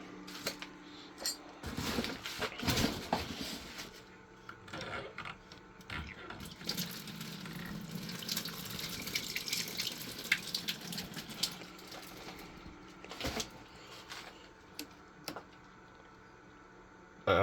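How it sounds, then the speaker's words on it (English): Water runs out of an opened plumbing valve in an old house, a low, ongoing gush with scattered metallic clinks and knocks, quiet overall, and brief bursts of noise throughout. "Alright, so I opened up one of the valves. Let the water out."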